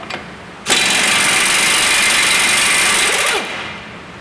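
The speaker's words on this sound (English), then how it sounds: "They just whiz off with the air gun" An air gun whizzes the nuts off the front hub of a Ford Mondeo Mk5 2-litre diesel. It gives one loud, close burst of about three seconds and then stops abruptly.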